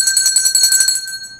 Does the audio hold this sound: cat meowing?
no